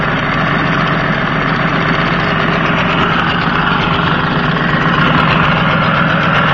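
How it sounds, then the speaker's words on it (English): A 1986 Tohatsu M18 C2 18 HP outboard motor runs in gear, giving a loud, steady, close-up engine drone with an even mechanical buzz throughout and no voices. "I'm going to shift it into gear right now."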